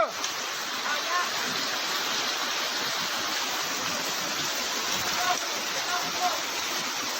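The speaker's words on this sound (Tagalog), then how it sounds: "Sobrang baha. Sobrang lakas, sobrang lalim na." Floodwater rushes near Mayon Volcano in Bicol, a constant loud roaring wash like a swollen river, steady throughout with only slight swells in intensity.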